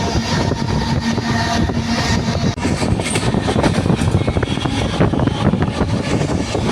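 A train rumbles along steadily while arriving at a railway station around dawn, a loud, continuous clatter and roar of rolling carriages with no voices, briefly dipping in level midway.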